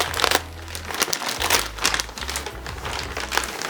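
A Supreme shipping package is unwrapped up close, with loud, continuous plastic crinkling and rustling in bursts. A low hum runs underneath and no one speaks.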